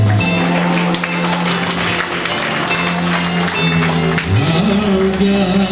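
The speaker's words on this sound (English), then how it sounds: "give God a hand clap of praise" A church congregation claps in praise during a worship service, a continuous wash of applause mixed with sustained musical tones, fairly loud and steady throughout.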